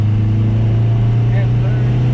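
A built MKIV VW TDI car launches hard, its loud, close, low engine drone holding steady through the short burst.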